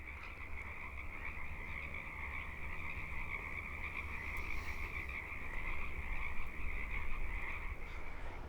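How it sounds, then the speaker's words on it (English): Frogs croak in a steady, dense chorus from a small swampy area beside a walking path at Deboville Slough, a continuous mid-distance din that swells slightly toward the end. "the frogs over in this little swampy area on the other side of the path are singing up a storm"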